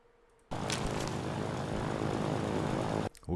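Piston engine of a Hurricane fighter aircraft in the video game Ground of Aces, a loud, steady propeller drone that starts abruptly, holds for about two and a half seconds, then cuts off.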